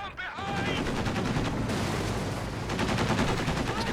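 Machine gun fire in Company of Heroes 2, a rapid, steady rattle of shots running continuously and loudly through the clip, with a faint voice underneath.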